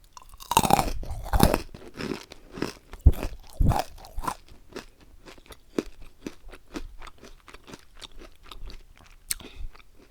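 Crunchy honeycomb candy bitten and chewed close up, a few loud cracking bites at first, then a long steady run of rhythmic crisp chewing crunches that gradually fade, with no talking.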